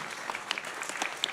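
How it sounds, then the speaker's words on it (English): An audience at a Tyson Fury vs Oleksandr Usyk boxing press conference claps steadily in a brief, dense burst of applause, with no voices standing out. "I ask you for a round of applause for this so humble but so powerful man"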